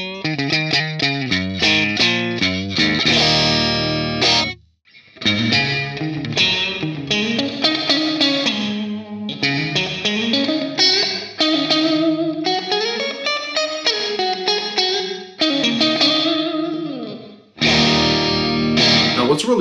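Electric guitar played through a JHS 3 Series Octave Reverb pedal with both octave and reverb turned up, driven by overdrive, delivering loud distorted riffs and sustained bends with a thick low octave layer and washy tail, briefly pausing twice.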